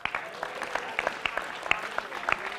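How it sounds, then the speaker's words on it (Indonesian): Audience applause for Rizky at an Islamic youth lecture: a short burst of scattered, fairly close hand claps with distinct individual slaps, brief and moderate in loudness. "Jadi kita kasih tepuk tangan buat Rizky."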